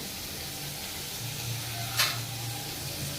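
Garlic sizzles in a hot pan with a soft steady frying hiss close up, and a brief scrape of stirring breaks in partway through.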